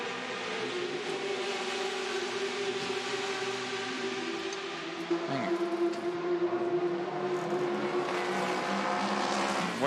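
Race cars at the 2014 24 Hours of Le Mans drone in the distance, with a steady engine hum and an occasional car passing nearer.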